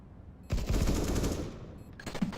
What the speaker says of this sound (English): That's an AK.